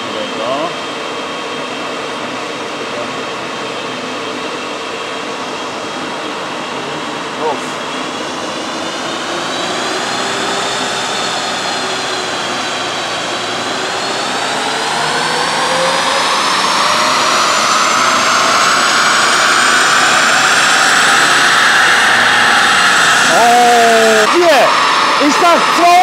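A high-mileage Mercedes with 500,000 km, freshly tuned with new software, runs to warm up: a steady engine drone whose pitch climbs gradually as it revs higher over the final stretch, loud and close throughout.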